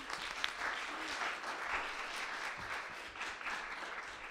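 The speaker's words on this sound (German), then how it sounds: "Und Applaus." Audience applause at an evening outdoor culture event by a canal, a dense, even wash of many hands clapping that carries on steadily without pause.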